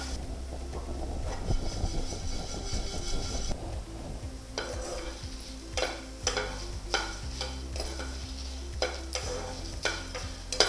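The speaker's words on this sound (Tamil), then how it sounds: "நான்ஸ்டிக்கில் கரண்டியால் வறுக்கிறேன் தப்புன்னு." A rice mixture being roasted and stirred with a ladle in a nonstick pan, with repeated scraping strokes and soft sizzling close by. Clinks and scrapes come in irregular bursts over a low steady hum.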